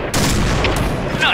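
Gunfire in the shooter video game Point Blank: a loud, dense burst of shots and impacts over a continuous roaring game backdrop, up close and brief, with no clear voice.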